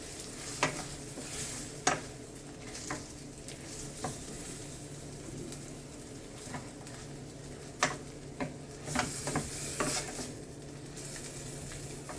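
Ackee sautéing with all-purpose seasoning in a pan, a soft continuous sizzle with occasional utensil scrapes and taps as it is stirred, close but fairly quiet, no voices.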